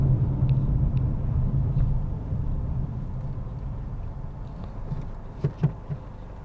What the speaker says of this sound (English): But what happens if we launch in sport mode?